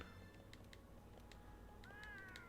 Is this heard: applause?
no